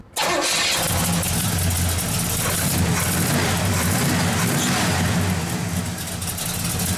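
A 1970 Pontiac GTO V8 cranks briefly and fires up cold, then settles into a loud, throaty, lumpy idle that runs on steadily with a slight surge.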